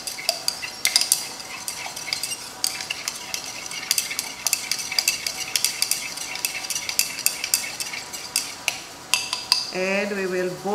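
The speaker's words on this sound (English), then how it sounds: "And we will boil this for a few minutes while stirring." Activated charcoal being stirred into a hot dissolved acetanilide solution in glassware, with repeated clinking and scraping of the stirrer against the vessel over a steady boiling hiss, close and fairly loud, ending in a brief tonal squeal.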